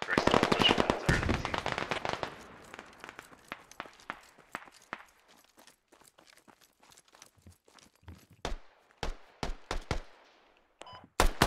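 Rapid gunfire in the military shooter Squad, a dense automatic burst opening the scene, then scattered single shots and short volleys, some sharp and close, others fainter, with voices talking between them.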